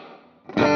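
Electric guitar played through a plate reverb pedal, a soft decaying wash of notes that swells into a loud, bright, dense chord in the final moments, heard alone.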